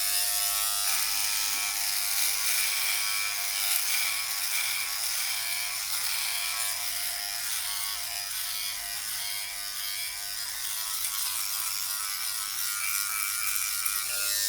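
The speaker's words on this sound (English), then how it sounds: "let's use the shaver element or shaver head without any combs at all" A Philips Body Groomer 7000 Series running its bare shaver head with no comb attached buzzes steadily and close while shaving hair along the neck, a continuous high whir with no talk over it.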